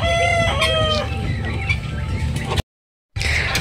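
Hens cluck and a rooster crows close by in a farmyard, busy overlapping calls with harmonic crowing at the start, then a brief cut to silence before the clucking resumes.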